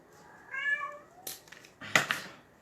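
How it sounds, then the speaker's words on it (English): A mother cat meows clearly several times, a drawn-out vocal call followed by shorter, sharper cries and a rustling burst, close and fairly loud. "That is my mama kitty"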